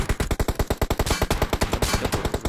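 Rapid automatic gunfire from a shooter video game, a steady stream of sharp, evenly spaced shots rattling close and loud for the whole stretch with no talk over it.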